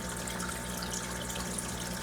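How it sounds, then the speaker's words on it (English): Steady, quiet bubbling and trickling water from an aquarium holding sharks and African cichlids, a continuous soft wash of noise with no talking. "And the bubbling is very relaxing."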